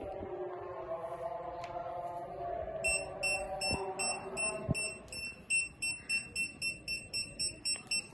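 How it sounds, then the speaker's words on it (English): A steady series of short electronic beeps from an obstacle sensor buzzer on a shoe repeats at an even pace over a low hum and background noise, growing more distinct toward the end. "the buzzer will start beeping"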